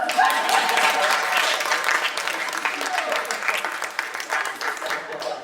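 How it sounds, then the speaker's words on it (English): An audience applauds a man for answering a question about shapes during a talk, a dense wash of clapping that stays steady and fairly loud throughout, with some crowd voices mixed in. "Give this man an applause."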